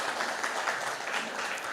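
Congregation applause in a Spanish-language church service welcoming newcomers: a short, even burst of many hands clapping at moderate distance, no voices on top.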